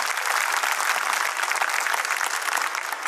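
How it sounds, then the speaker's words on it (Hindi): An audience at a school annual day claps loudly for young pre-primary performers, a dense and continuous burst of many hands that stays full throughout the short stretch. "एक बार जोरदार तालियां हो जाए हमारे नन्हे कलाकारों के लिए।"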